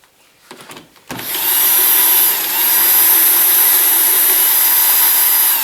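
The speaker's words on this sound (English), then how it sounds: "where's my drill? There we go." A power drill, used while setting up a dog stop fence, whirs loudly and continuously for several seconds after a few brief clicks of handling.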